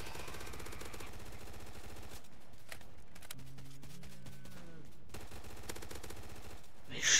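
Rapid PDW-R gunfire from the Roblox game Zombie Uprising, dense bursts in the opening two seconds and again after five seconds, with a quieter stretch of game sounds between and a sharp spike at the end.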